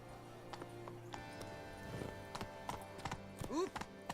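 Roach, a horse in the video game Witcher 3, clops along in a quick hoof rhythm under soft game ambience and a tonal hum, with a short whinny-like sweep near the end.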